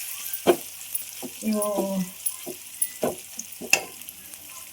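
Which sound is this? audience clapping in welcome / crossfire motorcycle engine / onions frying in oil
onions frying in oil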